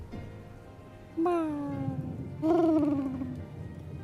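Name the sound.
person imitating a cat meow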